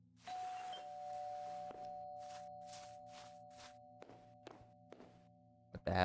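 A doorbell at night rings with a sustained tone, followed by a run of sharp knocks and thunks at the door that thin out and fade, with no one talking.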